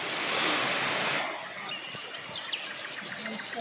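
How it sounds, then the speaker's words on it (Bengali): Water of a fountain at Eco Park in Kolkata splashes in a steady hiss, louder for the first second and a half, then softer under outdoor ambience with faint birdsong. "পাশেই রয়েছে খুব সুন্দর একখানা ঝর্ণা, পরিবেশটা তো খুবই সুন্দর।"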